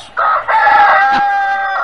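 A rooster crows loudly and close by, one long drawn-out call with a strained, warbling tone, alone with no other sounds.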